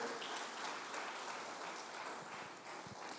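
A church congregation claps together during a sermon, a brief dense wash of hands heard from some distance, fairly quiet and without voices.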